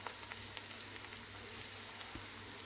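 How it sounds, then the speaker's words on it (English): Sukuma wiki (kale) sizzles steadily in a hot pan, a soft continuous frying hiss with faint crackles, quiet and close with no talking. "Add salt and other spices just as soon as the kale hits the fire"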